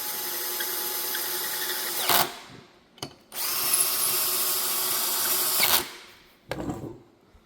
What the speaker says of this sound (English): I do have a number 3 screwdriver, Phillips, to tighten it down with.